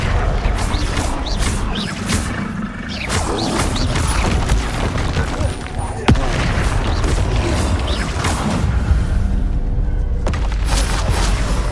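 Confringo fire spells explode in Hogwarts Legacy combat, bursting in a rapid series of loud booms and crashes amid continual spell impacts and clattering battle noise.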